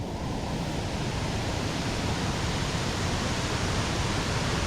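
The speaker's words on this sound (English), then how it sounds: "Waterfall." Waterfall on a mountain hike at Mt. Defiance, a steady broadband roar of rushing water that stays constant and fairly close throughout, with no voices.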